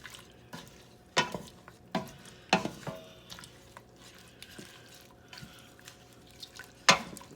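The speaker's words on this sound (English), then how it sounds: "pickle, cucumber onion mix in here. Just give it a good stir." A pickle, cucumber and onion mix being stirred in a pot, with several distinct close scrapes and clunks of the spoon against the pot at irregular intervals, separated by quiet gaps.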